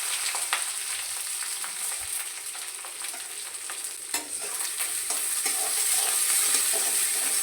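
Onions and curry leaves fry in hot oil for a tomato gravy, giving a steady, close sizzle with scraping stirs and a few sharp clicks from the utensil, no voices.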